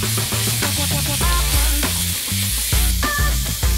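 Ground beef hits a pan of hot cooking oil already seasoned with pepper, oregano and ginger-garlic paste. It gives a loud, steady sizzle that runs unbroken throughout, with music playing beneath it.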